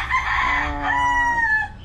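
A Boston Roundhead gamefowl rooster crows once, loud and close, in a long drawn-out call with a steady harmonic tone.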